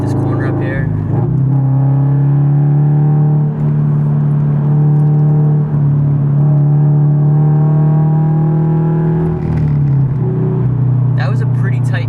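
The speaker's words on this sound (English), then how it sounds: "That was a pretty tight corner, and that was at around 55 miles an hour" A Subaru BRZ on Eibach lowering springs rounds a tight corner at about 55 mph, its engine droning steadily from inside the cabin with a slight pitch dip near the end.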